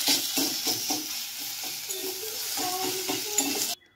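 Garlic paste frying over low heat in a pan for a country chicken and potato curry, a steady close sizzle with repeated scraping strokes as it is stirred, no voices, ending abruptly.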